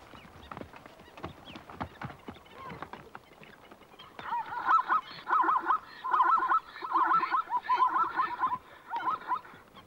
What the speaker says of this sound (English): A pair of blacksmith plovers has decided to nest right at the water's edge.